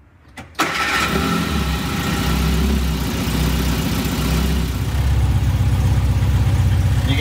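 A Shorrock supercharged Sprite car engine cranks briefly and catches, then settles into a loud, steady, close-up idle with a slight rise in revs near the end.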